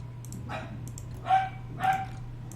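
A dog unit in the Total War: Warhammer 2 strategy game gives three separate barks, each short and clear, over a quiet low hum.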